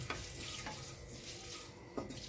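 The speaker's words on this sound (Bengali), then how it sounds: "হিংটা দিয়ে তেজপাতা, লঙ্কা, সর্ষে দিয়ে ভালোভাবে ফোড়নটা গরম হতে দিয়ে দিলাম" A tempering of bay leaf, chili, mustard seeds and asafoetida heating in oil for sambar, heard as a faint, steady sizzle with a few soft pops and light clinks.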